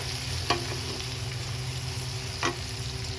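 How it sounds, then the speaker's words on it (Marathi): Garlic and onion sautéing in a pan for a home-style matki curry, giving a steady low sizzle with two sharp spoon scrapes against the pan and no talking. "लसूण टाकून घेतलं, लसूण कांदा टाकून घेतला, मस्त परतून घेऊया."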